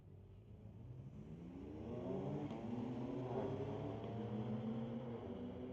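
Street-legal drag cars, including a BMW M6, accelerate down the strip at Mission Raceway Park, a faint distant engine roar rising in pitch and intensity over several seconds with no speech.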